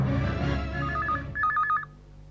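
A telephone dials with a run of quick tones, then rings in two short warbling trills, heard indoors over a fading low background hum.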